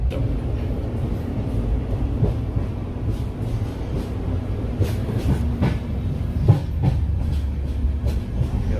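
An AC two-tier carriage of the Hazrat Nizamuddin Express rattles and clacks steadily near the entrance, with a constant low rumble and irregular metallic knocks and clicks throughout.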